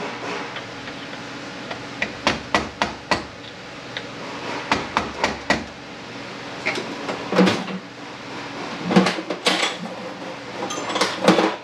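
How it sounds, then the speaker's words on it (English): Metal keeper tab on a Honda part being bent up during disassembly: a series of sharp metallic clicks and taps, a quick run of evenly spaced hits followed by irregular clinks and scrapes, close and fairly loud, no talking. "I'm gonna bend that tab up."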